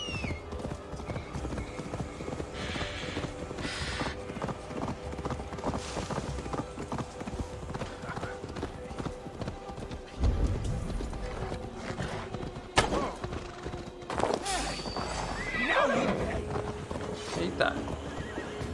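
A horse in Assassin's Creed Valhalla gallops with rapid rhythmic hoofbeats and lets out whinnying neighs, the in-game clatter steady and fairly close amid other game sounds, with a voice speaking at times.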